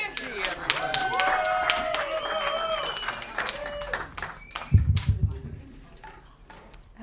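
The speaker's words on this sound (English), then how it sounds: "Make some noise for Angie, everybody." Comedy show audience breaks into clapping and cheering, a sustained burst of applause with whoops that swells, then a loud thump and fading claps near the end.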